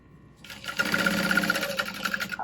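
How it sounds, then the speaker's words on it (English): A sewing machine stitches across the bottom of a tote bag. The motor starts up, then runs in a close, steady, rapid whir for about two seconds. "Stitching at the bottom."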